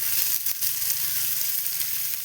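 Small mackerel fish fry in hot oil with a dense, steady sizzle, loud and close, with a few faint soft knocks, and no voices.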